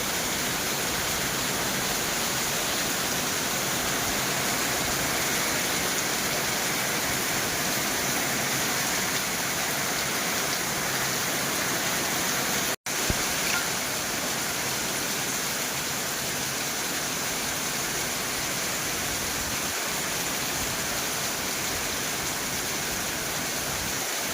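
Steady, dense hiss of heavy rain pouring down without pause, broad and constant, with one brief sharp click partway through.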